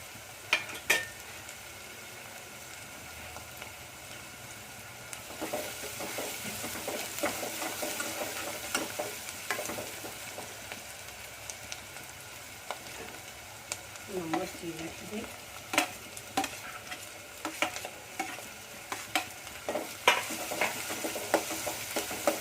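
Onion sautéing in a pan for a traditional Gujarati ringan oļo, a steady sizzle with repeated scraping stirs and clinks of the spoon, close and continuous for over twenty seconds, no talking.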